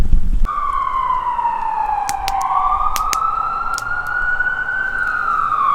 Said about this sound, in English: That's the third or fourth ambulance that's gone up the canyon in the last about hour.